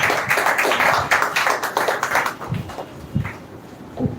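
A small group claps for a few seconds. The clapping is dense at first, then thins to scattered claps.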